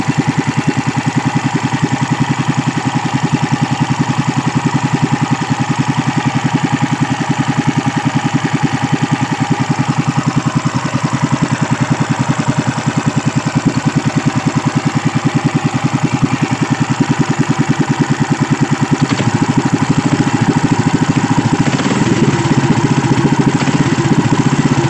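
A Sumo rato 15hp boat engine runs steadily, its loud mid-pitched mechanical drone holding an even, unbroken rhythm throughout with no voices.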